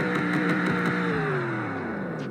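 A 1999 Ford Mustang GT V8 revs up once and then lets the revs slide slowly back down, a steady, close engine tone with no voices over it.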